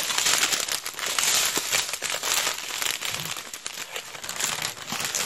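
Crinkly plastic packaging from a clothing haul is folded up close by, giving a steady stream of loud, irregular crackles and rustles with no talking.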